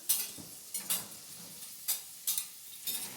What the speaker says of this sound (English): Those mushrooms cooking. Nice saute here